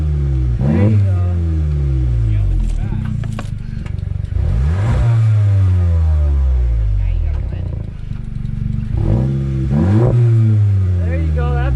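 A VW Mk7.5 GTI engine fitted with a new exhaust revs hard in repeated surges, each rise sweeping up and falling back, loud and close, with a few people talking between pulls.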